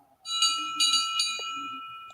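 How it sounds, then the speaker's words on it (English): A CGI-series bell rings with a bright, sustained metallic tone, struck about three times in quick succession and left to hang and fade, loud and close with no talking over it. "Only his CGI bell sound like this."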